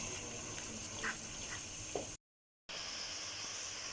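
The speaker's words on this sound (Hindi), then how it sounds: "अब हम मसाले की इतनी भुनाई करेंगे कि मसाला हमारा अच्छे से भुन जाए" Masala for kofta curry roasting and frying in a pan: a steady, soft sizzle runs throughout, with a few faint crackles and a brief dropout partway through.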